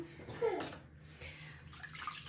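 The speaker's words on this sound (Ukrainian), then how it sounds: "Тепер змочую в тепленькій воді щітку" A scrubbing brush being wetted in warm water while cleaning up after a renovation, with close, soft swishing and splashing of water as someone talks over it.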